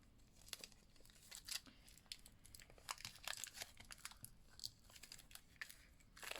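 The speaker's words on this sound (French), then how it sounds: "il vous suffit d'ouvrir délicatement le plastique" Thin plastic wrapping on an ink pad is eased open by hand, giving a close, quiet run of irregular crinkles and small tearing crackles throughout, with no talking.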